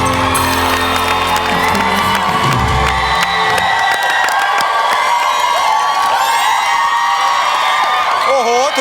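A crowd of supporters at a televised singing contest cheering and whooping loudly, with high children's shouts and some applause, a dense sustained roar close up that keeps going throughout.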